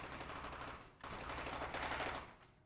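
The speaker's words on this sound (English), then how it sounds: "And their guns are extremely loud." Rapid automatic gunfire in the shooter game Totally Accurate Battlegrounds, dense, loud bursts with a brief break before the firing resumes, no talking over it.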